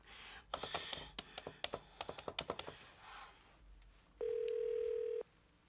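Telephone call being placed: a quick series of sharp clicking keypad presses, then after a brief pause a steady electronic tone holds for about a second before cutting off.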